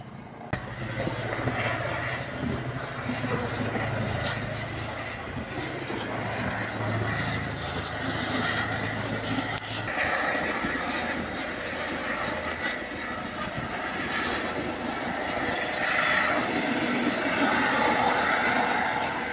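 A helicopter returning to land at a helipad beside Ashtamudi Lake, heard as a steady, loud engine and rotor drone that holds throughout, with faint voices underneath.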